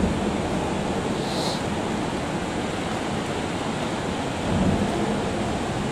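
Gooseberry Falls rushes in a dense, continuous roar of broadband noise, loud and steady throughout, with a slight swell toward the end.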